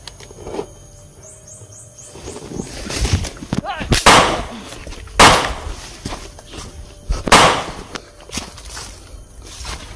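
Several loud, sharp gunshots ring out one by one, a few seconds apart, in a video game battle against bandits, with clicks, footsteps and talking between them.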